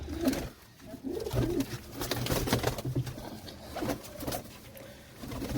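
Pigeons coo in soft, repeated low throaty calls, several birds overlapping close by amid faint background rustling.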